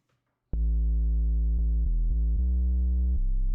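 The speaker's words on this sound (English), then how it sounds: "Then we've got our big, heavy sine wave bass down here." A heavy sine-wave bass from a 3x Oscillator synth in FL Studio plays a short sequence of sustained low notes that step through a few pitches. It is loud and alone, with no other instruments.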